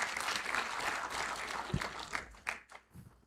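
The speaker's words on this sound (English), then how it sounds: "Another round of applause, ladies and gentlemen." An audience applauds in a dense wash of clapping that gradually thins out, with a few scattered last claps fading at the end.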